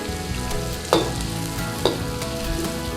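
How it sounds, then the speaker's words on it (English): Onions and garlic fry for beef chow mein in a pan, a continuous close sizzle with two sharp scrapes as a utensil stirs them around, while a tonal hum runs underneath. "In with some onions, get your onions in there, give it a quick stir around"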